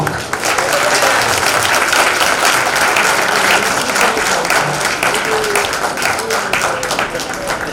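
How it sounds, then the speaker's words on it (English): A luncheon audience claps loudly and continuously throughout, a full sustained round of applause with faint crowd murmur and a voice partly under it. "let's give another round of applause to Mayor Schaaf"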